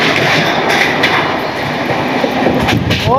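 The Samaleswari Express rumbles across the Karo river bridge, a loud, close, continuous roar of wheels and carriages with rhythmic clatter and a brief squeal of wheels near the end.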